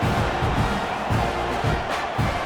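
A stadium crowd murmurs and roars in the College Football 26 game, a steady wash of cheering with rhythmic swells, fairly loud and continuous.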